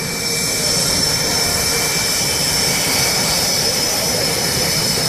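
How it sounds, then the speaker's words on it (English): An L-39 jet on a demonstration flight at the Naval Air Station Oceana airshow, a loud, steady jet-engine roar with a whining high tone that holds for several seconds without letting up. "Our Warrior Flight Team L-39 demonstration pilot is Lieutenant Commander Mark Crunchy Burgess"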